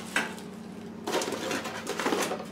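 A Copper Chef pan handled, with a light metallic tap early on, then a stretch of rustling, scraping contact noise at moderate loudness.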